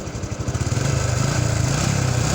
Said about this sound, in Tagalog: So yan, agos itong kanyang motor.